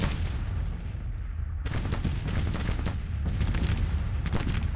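Dense musket fire from Springfield rifled muskets in the Grand Tactician Civil War strategy game, volleys crackling in rolling overlapping bursts over a constant low battlefield rumble, with a brief lull before the firing surges again.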